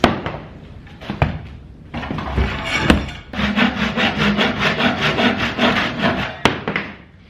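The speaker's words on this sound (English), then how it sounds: "let's just abrade it smooth" Wood for a step stool made from a 1959 attic ladder is abraded smooth, with repeated close rasping back-and-forth strokes in a steady rhythm, broken by a few knocks and bumps.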